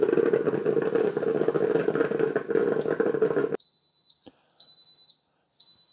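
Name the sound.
Ninja 12-cup coffee maker beeping when done brewing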